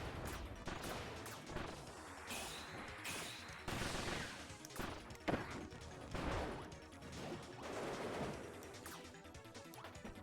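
Bombs and mines going off in Kirby's Return to Dreamland Deluxe: a rapid series of punchy game explosions and crashes with bright bursts, closely spaced and loud throughout, layered over game music and effects.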